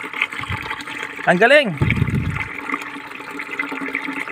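Water gushes hard from a 12-volt solar submersible pump, a loud rushing splash with a brief rising whine in the middle, while people talk over it.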